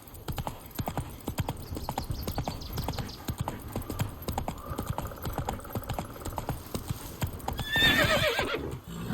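Roach the horse trotting in The Witcher 3 on PS5, rapid steady clip-clop hoofbeats throughout, ending in a loud whinnying neigh, with faint game ambience behind.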